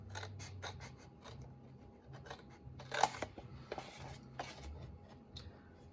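Quiet snipping of scissors cutting card for a Christmas cracker box, a string of soft close clicks and crisp slices over a low hum.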